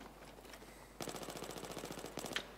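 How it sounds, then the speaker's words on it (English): Rapid machine gun fire in the shooter Battlefield 3 on a Rush map, a sustained burst of evenly spaced shots starting abruptly after a quiet second and running to the end, with a sharper close crack near the finish. "Who's shooting at me?"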